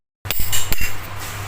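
A few sharp metallic taps ring out as a part is driven into place with a hammer and a hollow steel punch during an electric fan repair, close and loud against a quiet room.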